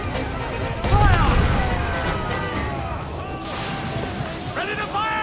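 Ship cannons boom in an Assassin's Creed naval battle, a heavy close blast followed by rumbling echoes and further distant shots, with crew voices shouting over the action.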